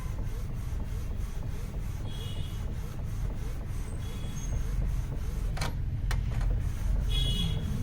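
An Epson L8050 inkjet printer prints a PVC card, with a soft continuous mechanical whir and rubbing under it throughout, joined later by a few sharp clicks and short high whines of the moving carriage.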